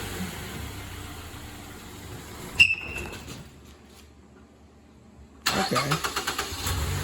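A 2012 Mazda 6 fresh from a clutch replacement: quiet idle hum, a short click, near silence, then the engine cranks and catches with loud, rhythmic pulses close by.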